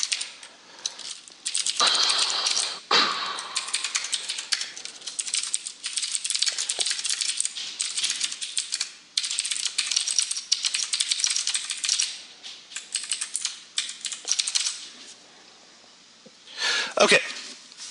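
Rapid, clattery computer keyboard typing comes in dense bursts separated by short pauses, close and fairly loud.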